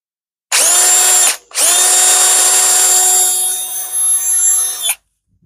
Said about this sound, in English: We'll very quickly try this on a drill to see how we're doing.